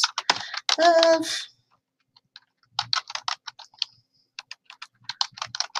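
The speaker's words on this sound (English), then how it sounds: "I couldn't see everything I was typing" Rapid clusters of computer keyboard keystrokes, close and fairly crisp, come in bursts after a brief stretch of spoken words at the start.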